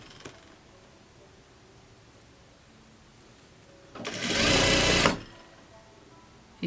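A sewing machine topstitching viscose fabric on a summer jumpsuit runs in a single close, steady burst of about a second, with quiet room tone before and after.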